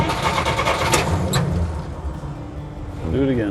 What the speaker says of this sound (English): It takes just like a tap on the throttle and then